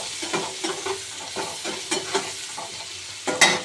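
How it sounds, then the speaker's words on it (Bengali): Onion with whole cardamom, cumin and cloves frying in a pan, crisp sizzling broken by rhythmic stirring scrapes and a louder burst near the end, close and alone. "পেঁয়াজটা দিয়ে দিয়েছি, এলাচ গোটা জিরে লবঙ্গটা দিয়ে দিলাম। একটু ভালো করে ভেজে নেব।"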